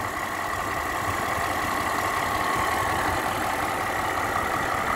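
A Range Rover Sport Autobiography Dynamic with a 4.4 litre turbo diesel V8 idling with the bonnet open, a smooth, steady, even hum heard up close with no talking.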